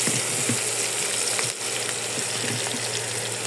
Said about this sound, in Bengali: এলাচ আর দারচিনি, তেজপাতা একটা দিয়ে ভালো মতন পেঁয়াজটা একটু ভেজে নেব